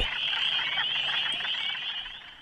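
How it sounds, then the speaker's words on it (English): Spring peeper frogs call from a pond in a dense, continuous chorus of high, shrill peeps that overlap steadily and sound fairly close throughout. "the spring peepers make their sounds known in the pond"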